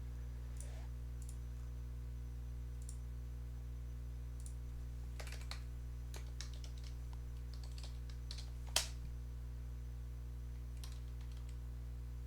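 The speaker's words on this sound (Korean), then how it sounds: "요거 그냥 타이핑을 할게요" Someone types on a computer keyboard while entering Java Spring configuration code, sparse clusters of soft, faint key clicks over a steady low electrical hum, with one sharper tap standing out and no speech.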